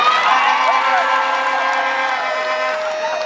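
A large rally crowd in a stadium in Kisii cheers and applauds with sustained whoops and shouting, loud and continuous, with a steady tonal hum running through it.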